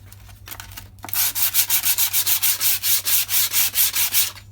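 A Honda VTR 1000 Firestorm rear wheel is hand-sanded with 120-grit sandpaper in a quick, even rhythm of about a dozen close, scratchy back-and-forth strokes after a brief quiet start, with no talk.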